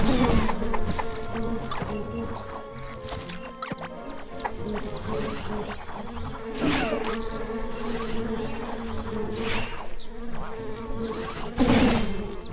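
Bees buzz around honey nests in the action RPG Secrets of Grindea, a steady insect drone over game music, broken by occasional sharp smashing hits as the nests are struck.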